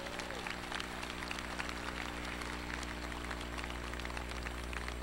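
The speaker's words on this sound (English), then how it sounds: "Let's have another round of applause, please, for our speaker." Audience applause at a fall commencement ceremony for the invited speaker, a steady wash of clapping from a large crowd in a hall, with a constant low hum running beneath it throughout.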